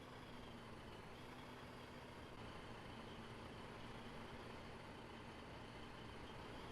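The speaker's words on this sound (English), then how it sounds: "Got this truck coming up behind me." Truck in the Foxhole game approaching from behind, a steady low engine drone and broadband road rumble that holds throughout, faint and continuous with no voices.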